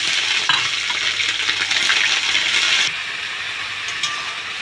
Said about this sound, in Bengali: মশলা একটু হালকা ফ্রাই করে নেব